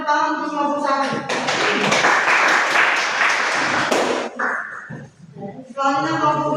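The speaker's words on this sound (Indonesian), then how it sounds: "Kita beri tepuk tangan untuk kelompok 1." A classroom group bursts into a few seconds of loud, dense clapping for group 1, with people talking just before and after the applause.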